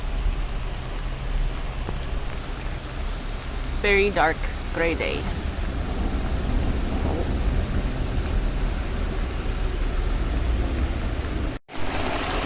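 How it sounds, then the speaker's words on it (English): Heavy rain pours steadily during a thunderstorm, with low thunder rumbling beneath the constant hiss while a person talks. "Thunderstorms. So much rain. I'm getting some thunder and lightning too,"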